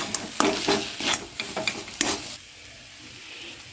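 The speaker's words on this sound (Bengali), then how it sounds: "নেড়ে নিচ্ছি।" Bhetki fish chop mixture with garam masala and chopped coriander leaves, stirred in a frying pan. A handful of close, brisk scraping strokes sound over a sizzle, then it quiets to a faint hiss.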